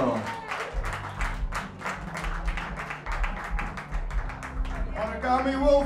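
A festival crowd at Woodzstock 2024 in Munlochy applauds a band with dense, sustained clapping from many hands, steady throughout, with a voice faintly audible beneath.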